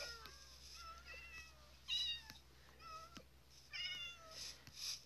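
Several cats and kittens in the video game Minecraft meow repeatedly in short, rising and falling calls, quiet and overlapping over a low steady background hum.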